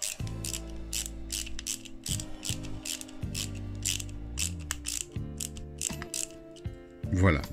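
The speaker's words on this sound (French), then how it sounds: "Là, le cliquet, il est pratique pour éviter de se fatiguer." A ratchet drives screws into a KITT model kit from the Knight Rider car, giving repeated close, loud bursts of rapid clicking pawl strokes with brief pauses between turns.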